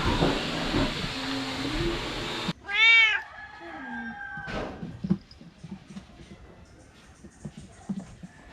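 A cat meows in a short rising-falling call near the start of a quiet outdoor stretch, after a burst of loud broadband noise cuts out, with faint ambient sounds following.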